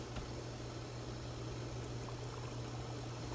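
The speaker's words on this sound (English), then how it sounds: "See how the water's getting filling them up?" Running water pours into a cooking pot of artichokes, a steady, faint filling rush with a low hum underneath, continuous and without voices.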